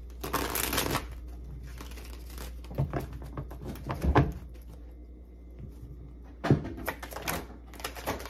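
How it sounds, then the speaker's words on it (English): Tarot cards being shuffled by hand, heard as close, quiet bursts of papery riffling and tapping separated by pauses, with soft handling noises in between. "I'm gonna shuffle all the cards out first"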